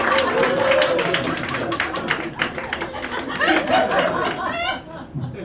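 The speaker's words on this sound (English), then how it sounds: "give them both a big round of applause" A theater audience at a magic show claps for two volunteers, scattered clapping and taps mixed with chatter and light laughter, with a voice talking over it.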